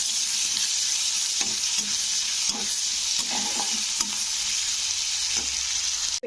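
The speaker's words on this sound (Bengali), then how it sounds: "তো পেঁয়াজটাকে একটু ভেজে নিতে হবে হালকা ব্রাউন করে।" Sliced onion frying in hot oil until light brown, a loud steady sizzle with occasional stirring scrapes running throughout, close up and with no talking.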